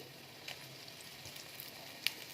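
Whole spices and dried red chillies sizzle faintly in hot oil for a dosa tempering, a soft steady hiss with a few small pops and one sharper crackle.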